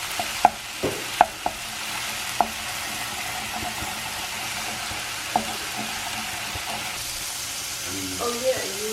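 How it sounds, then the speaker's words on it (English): Leftover pork and cauliflower rice stir-fry in a pan with liquid aminos and rice wine vinegar, a steady close sizzle broken by a few sharp clacks of a utensil against the pan, and brief talk near the end. "I'm going to turn it into a stir fry"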